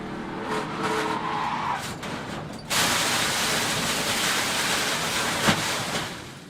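A NASCAR racing truck skids at around 160 mph after brake failure, with a loud roaring rush of tire and engine noise that surges sharply partway through and stays intense and close.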